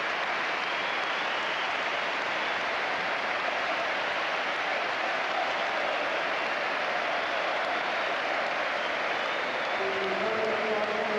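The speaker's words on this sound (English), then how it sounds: "That's what you call a standing ovation." A football stadium crowd at Highbury gives a sustained standing ovation at an Arsenal match, broad steady roar of applause and cheering filling the whole clip with no break.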